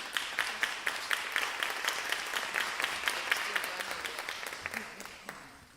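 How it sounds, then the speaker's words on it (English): Audience applause at a Temple University 2025 Rites of Passage graduation ceremony, rapid individual claps forming a fairly quiet, steady patter that slowly fades toward the end. "let's give them a round of applause again"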